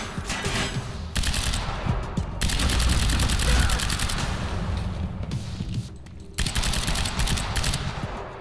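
Assault rifle fire in the video game Quantum Break: a dense, sustained stretch of rapid automatic shots, loud and continuous for about eight seconds with brief breaks in the rattle.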